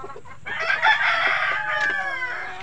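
A fighter-cock rooster crows loudly and nearby in one long drawn-out call, with fainter chicken clucking at the start.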